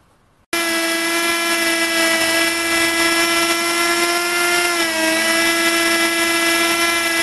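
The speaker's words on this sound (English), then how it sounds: "now we're just going to drill and tap those threads to take these little bolts that came out originally" A worn electric drill with a noisy gearbox runs steadily at close range, a loud continuous whine with a slight dip in pitch partway through, as holes are drilled and threaded for small bolts on a camera monopod rest built from junk.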